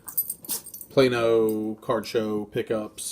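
A small 20-pound dog whines and yelps in agitated bursts close by, with someone talking over and between the cries.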